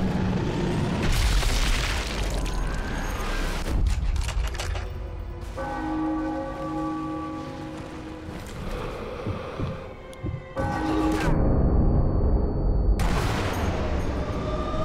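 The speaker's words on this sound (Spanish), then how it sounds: "¿Y esos tiros? ¿Habéis visto esos tiros?" Heavy gunfire and booming blasts from the video game Sniper Elite V2 ring out with loud, echoing impacts and long reverberant tails, separated by quieter stretches of ambient game sound.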